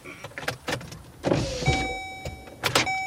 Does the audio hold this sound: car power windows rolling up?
yes